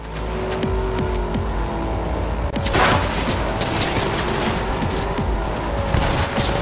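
Gunfire in Cyberpunk 2077 from a passenger leaning out of a moving car, with rapid bursts of shots over a constant engine and road roar.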